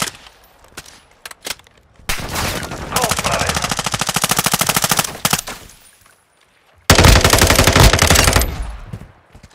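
Sustained automatic machine gun bursts in a first-person shooter video game, loud and close, with two long volleys separated by a pause and a few scattered single shots beforehand.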